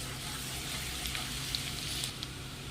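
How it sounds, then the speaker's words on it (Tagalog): Chopped garlic sautés in a pan, a steady, close sizzle and crackle with small pops spread evenly throughout. "tayo po ay magigisa ng bawang"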